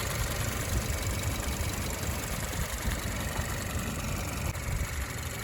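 A 1.6-liter turbocharged four-cylinder engine in a 2021 Kia K5 idles with a steady, even hum and hiss, heard close with no talking.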